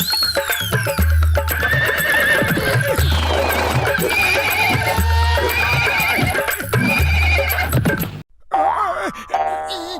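A cartoon horse neighs and whinnies loudly amid clip-clop hoofbeats and busy comedic background sound, closing with a short pause and another whinny; voices briefly mix in.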